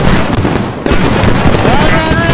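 Enemy fire in the Squad military game rattles as a dense, loud barrage of cracks and booms that stays continuous throughout the short stretch, with voices shouting over it.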